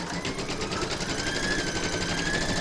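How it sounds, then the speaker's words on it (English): An embroidery machine stitches a placement outline on a hooped garment, a fast, steady, even mechanical whir of needle strokes running continuously at close range with no talking. "You're now going to pop your hoop into your machine and stitch round number one"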